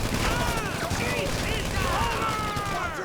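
Dense video game gunfire during a police shootout, with rapid bursts and a crackling fusillade running continuously and loud, with a voice talking over it.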